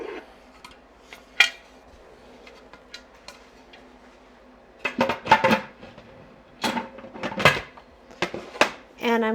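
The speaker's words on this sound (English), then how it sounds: "So I'm going to put my lid on." A lid is set onto a canning pot for black beans, giving several sharp metallic clanks and rattles in quick bursts, close and fairly loud, with quieter clinks and a low hum between them.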